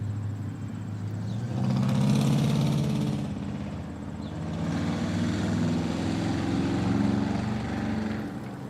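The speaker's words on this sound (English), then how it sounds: "I think I hear aircraft" A low, broad aircraft drone passes overhead near a street where cars, a white truck and a tan van are moving, swelling twice and fading in between, with traffic rumble blended underneath.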